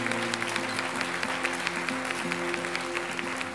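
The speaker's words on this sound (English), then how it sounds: "please give a round of applause to our winner, Mark Bland" Steady applause from a crowd, continuous clapping throughout with no speech over it.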